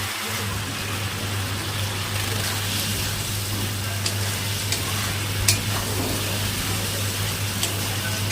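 Spice paste with salt and turmeric sautés in a pan for a vegetarian arum and chickpea curry, giving a steady, close sizzle with faint stirring scrapes throughout and no talking.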